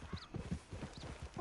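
Horse hooves clip-clop at a steady walking rhythm in Red Dead Redemption 2, close and fairly quiet, with a faint whinny-like tone near the end.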